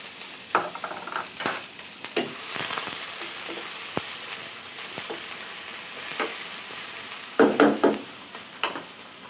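Onion sizzling and frying in a pan for okra with mushrooms and sambal, a steady crackling sizzle broken by several stirring scrapes and clatters, louder toward the end.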